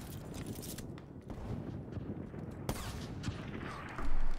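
Gunfire in the video game Call of Duty: Black Ops 3, rapid bursts of shots with sharp cracks, moderately loud against busy game background noise.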